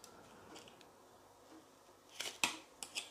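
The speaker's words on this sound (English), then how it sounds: "Right, I've just snipped the legs off that old battery, and you can see them there." Cutters snip through the metal legs of an old circuit-board battery on a Rolls-Royce Silver Spirit seat module, a few sharp, close clicks near the end after quiet handling.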